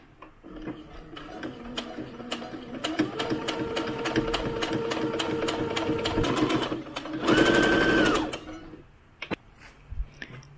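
Sewing machine stitching doll clothes seams, a steady close whirring run of rapid needle clatter lasting several seconds, rising in pitch briefly near the end before stopping, followed by a few soft clicks.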